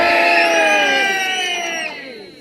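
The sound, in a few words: crowd giving big loud cheer at Warwick castle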